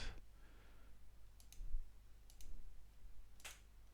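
A computer mouse gives a few sharp, isolated clicks while a setup screen is navigated, quiet and close with a faint background hum and no talk.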